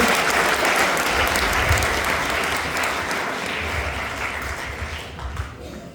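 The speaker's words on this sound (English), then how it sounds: "a round of applause for Ekag" A seated audience at a talk session breaks into sustained applause, a thick, even roar of clapping that holds steady and only slightly thins toward the end, with faint voices mixed in underneath.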